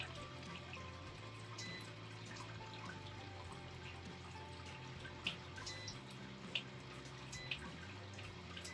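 Wort drains and drips from the grain after sparging in an Anvil Foundry home brewing system, a faint steady trickle under a low equipment hum with a few sharper drops near the end.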